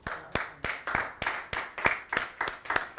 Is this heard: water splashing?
no